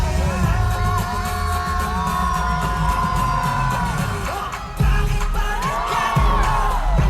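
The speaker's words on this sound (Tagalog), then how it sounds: "Sinabayan ng hiyawan eh." A concert crowd at a Summer Sonic Tokyo performance keeps up continuous screaming and cheering over loud live music, dipping briefly before surging back even louder.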